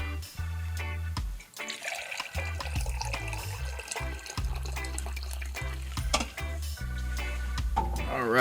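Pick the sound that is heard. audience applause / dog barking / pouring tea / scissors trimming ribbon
pouring tea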